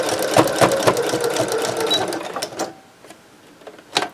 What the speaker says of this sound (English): And then I'm going to start top stitching it down.